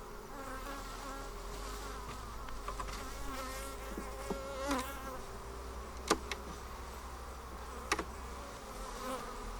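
Honey bees drone in a soft, continuous hum around an open hive, with a few sharp clicks and knocks of hive handling breaking in nearby, no voices.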